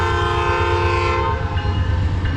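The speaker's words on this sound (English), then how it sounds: "Remember I told you if you like trains, this is the town for you? There's another one." A freight train rumbles past in the small railroad town of Matewan, West Virginia, its horn sounding a loud sustained blare over the heavy rolling clatter, close and continuous.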